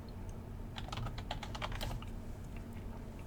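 A burst of quick keystrokes clatters on a computer keyboard, close and clear, in a rapid run that trails off into a few scattered taps.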